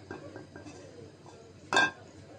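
A wok set down on a stove with a single bright metallic clank near the end, preceded by faint soft kitchen knocks, close.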